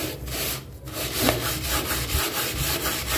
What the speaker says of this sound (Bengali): একটু আমি ঘষে ঘষে ময়লাগুলো উঠাচ্ছি।